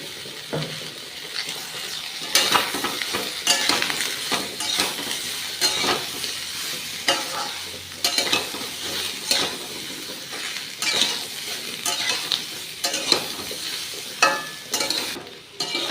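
Eggplant and cabbage stir-fry in a pan with salt and turmeric, making loud, steady sizzling broken by frequent rhythmic spatula scrapes and clinks of utensil against metal.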